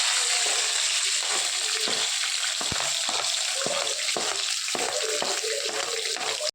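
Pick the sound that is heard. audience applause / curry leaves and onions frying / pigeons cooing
curry leaves and onions frying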